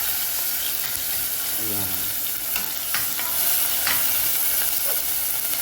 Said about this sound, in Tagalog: Okay, susunod ko na rin ang sibuyas.